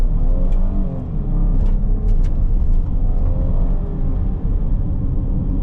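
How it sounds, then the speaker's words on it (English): A 2024 Chrysler Grand Caravan minivan accelerates hard from a stop toward 60, a loud, steady engine drone and road rumble heard from inside the cabin, with no talking. "especially when you're doing like a hard acceleration like what I just did, 0 to 60"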